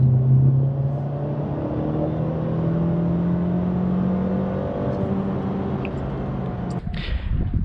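Engine of a 2019 Mercedes C-Class C180 W205 in Sport Plus mode, a steady rising hum under acceleration heard from inside the cabin, with a brief bump near the end.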